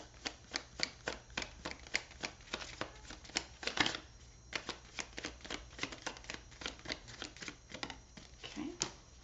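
Tarot cards are shuffled close up in steady riffling bursts, with soft rhythmic flicks repeating throughout and a brief louder rustle partway in, faint overall and not covered by talk.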